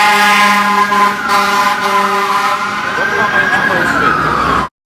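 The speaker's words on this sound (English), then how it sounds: "the sirens." An emergency vehicle siren wails through New York City streets, loud and steady with a pitch that sweeps upward near the end, over the low hum of traffic.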